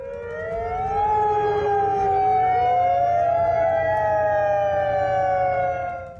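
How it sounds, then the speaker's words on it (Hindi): A tsunami warning siren wails loud and steady, its rising and falling tones sweeping in overlapping layers for the whole stretch, with no voices over it. "ये सुनामी की चेतावनी का सायरन बज रहा है।"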